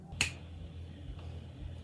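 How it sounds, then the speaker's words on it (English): A single sharp finger snap rings out near the start, close and crisp, followed by quiet room tone with faint low hum. "I'm going to save you heaps of time by just snapping my fingers"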